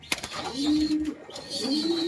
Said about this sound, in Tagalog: Nag-iingay na naman yung inakay, nakakita ko. Gusto na naman nagpasubo.